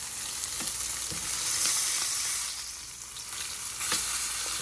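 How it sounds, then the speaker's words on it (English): A steak sizzles and fries in a hot pan just after being flipped, a dense close crackle that swells and eases, with a few sharp scraping clicks from handling the meat and no talking. "I'm gonna go ahead and flip the steak now"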